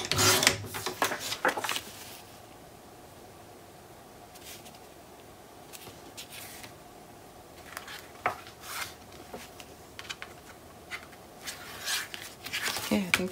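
Paper being trimmed for a mini album, close scraping and rubbing strokes in bursts at the start and end with a quieter stretch between, while a person talks.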